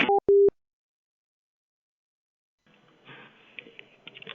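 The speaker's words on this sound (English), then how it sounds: "I'm hanging up the phone." A telephone busy signal right after a hotel-room phone is hung up: two short, loud tone bursts, then silence, before faint background noise and movement return toward the end.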